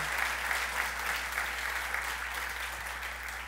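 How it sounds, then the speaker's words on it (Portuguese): A church congregation applauds with dense, continuous clapping that holds steady throughout and stays fairly distant and soft. "Você pode aplaudir o Senhor"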